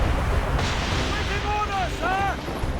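Ship cannons firing during a naval battle in the video game Assassin's Creed Rogue, with heavy booming blasts and rumbling low-end over game sound, while voices shout over the gunfire.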